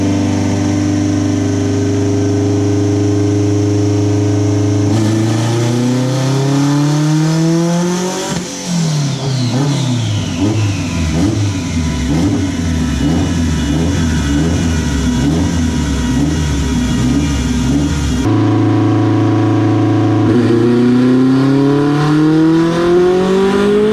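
A turbocharged Honda H22 engine in an EK hatchback revs hard on a dyno, climbing through a long pull with rising harmonic whine, then dropping back to a lower rumble, loud and close with no talk.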